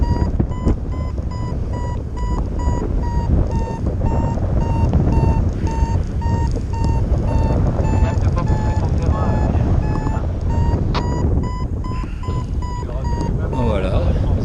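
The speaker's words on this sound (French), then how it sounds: "Vous entendez le vario, hein, ça bip, ça bip, ça bip." Paragliding variometer beeping in regular, evenly spaced tones throughout a cross-country flight at Allevard, France, steady over rushing wind noise, with someone talking at times.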